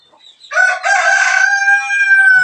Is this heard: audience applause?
no